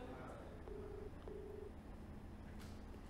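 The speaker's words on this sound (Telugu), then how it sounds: "మల్లారెడ్డి ఫోన్ రింగ్ అవుతుంది కానీ లిఫ్ట్ చేయట్లేదు." A phone call being placed: short dial-tone beeps come in steady pulses, followed by the repeating ring-back tone, faint and thin through a handset line.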